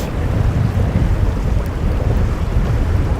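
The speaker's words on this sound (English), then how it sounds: "with these winds right now coming from the east northeast" Strong east-northeast wind buffets the microphone at the shore while fishing near Corpus, a loud steady roar with gusty rumble and surf-like wash, no talking.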